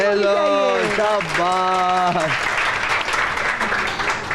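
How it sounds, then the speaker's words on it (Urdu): A studio audience at a Ramzan television transmission breaks into loud, sustained applause that fills the room, following a short stretch of speech at the start. "چلو بھی کلاپ"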